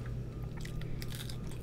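Chewing on crunchy birria queso tacos, a soft close crunch with moist, squishy bites repeating steadily and nothing else over it.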